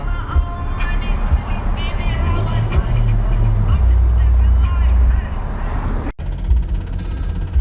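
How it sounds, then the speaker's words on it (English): Traffic stuck on a highway inside a tunnel, a loud continuous engine rumble with a deep droning hum and echoing road noise throughout, briefly dipping near the end. "we're pretty much stuck in traffic on the highway in a tunnel"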